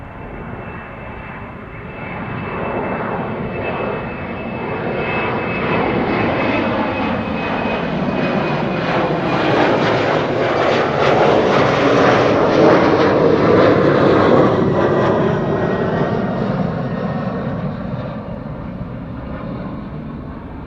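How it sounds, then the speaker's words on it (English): A KLM Embraer 190 jet departs Amsterdam Schiphol Airport, its engine roar building from a distance to a loud, broad rumble, then slowly fading, with a thin whine near the start. "That is an Embraer 190."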